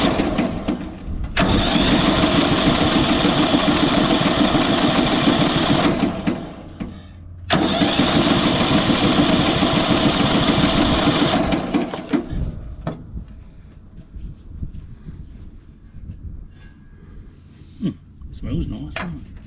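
A Briggs and Stratton ride-on mower engine cranked by its starter motor after carburettor cleaning, oil in the cylinder, two loud sustained cranking bursts of several seconds each with a short pause between, then quieter clanks and someone talking.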